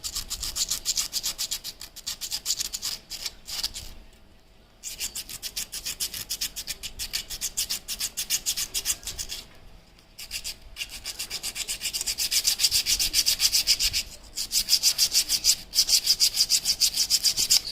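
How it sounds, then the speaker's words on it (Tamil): Sandpaper rubs across a motorcycle brake pad from a Bajaj NS200 in quick back-and-forth strokes, a rasping scratch that runs in bursts with brief pauses and swells louder toward the end, heard alone at close range. "ஸோ நம்ம சாண்ட் பேப்பர் எடுத்து ஜஸ்ட் ரப் பண்ணிக்கலாங்க."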